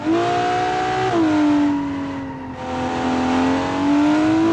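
A race car engine in the video game BeamNG holds a high, steady whine, dips briefly as if shifting, then climbs again, loud and continuous with no voices.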